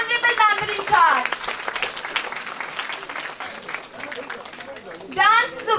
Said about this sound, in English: Give a great round of applause for our honorable member in charge.